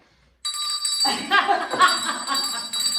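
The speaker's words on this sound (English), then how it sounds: "the other rings the bell and calls a truce, hence the name the truce bell" A hand bell rung as a truce bell gives a sustained bright ringing that starts suddenly and continues steadily, with people's voices chatting and laughing underneath.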